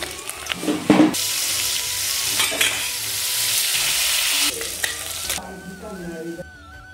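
Small mourala river fish fry in hot oil, a loud steady sizzle broken by a few scraping clatters as the pieces are lifted out of the pan, the hiss dropping away near the end.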